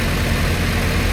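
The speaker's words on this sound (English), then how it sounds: "it starts right up. It's a really quiet engine" Subaru engine in a Brat WRX swap idles with a steady, even rumble, close and fairly loud throughout the brief moment.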